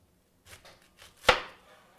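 A knife slices a head of red cabbage in half: a few soft taps and rustles, then one sharp, crisp crunch as the blade cuts through and strikes the board, fading quickly.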